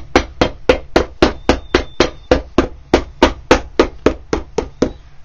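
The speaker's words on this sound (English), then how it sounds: "I'm hammering as fast as I can." A hammer strikes a boot during an Allen Edmonds Fifth Street boot restoration, with about seventeen sharp, evenly spaced blows at roughly three per second. Each blow is loud and close, with no talking.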